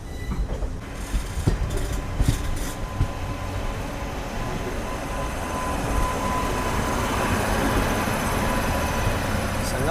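A train pulls out of Gudur Junction, its rumble building from scattered clanks into a steady, loud roar of wheels and carriages passing close by.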